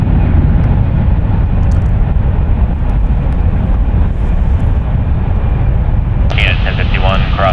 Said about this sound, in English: United Airlines flight 1647 going to LAX. It's a Boeing 737-900ER, 9 years old.